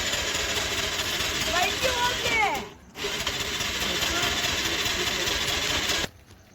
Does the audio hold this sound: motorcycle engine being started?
yes